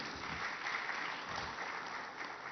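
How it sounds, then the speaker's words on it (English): Audience applause at a panel event, a steady muffled wash of many hands clapping, moderately loud and continuous without distinct individual claps. "let's give them a very, very warm round of applause"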